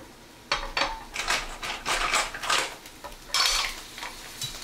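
Garlic stirred around in olive oil in a pan for mussels in white wine sauce, with a run of close scraping and clinking utensil strokes against the pan over a soft sizzle.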